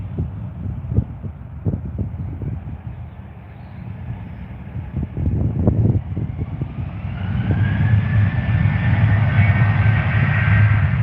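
A Jet2 airliner with CFM56 engines at London Stansted Airport: a steady, broad engine roar that swells louder over the clip, with a thin whine rising out of it near the end. No voices.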